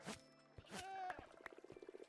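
Frogs croaking in a video game, a few distinct croaks and chirps followed by a quick rhythmic run of short croaks, fairly faint with tonal game sounds in the background.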